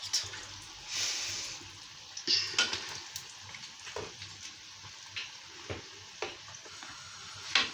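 Sesame balls frying in hot oil in a home kitchen, a soft continuous sizzle broken by scattered pops and light stirring clinks, fairly quiet with no talk.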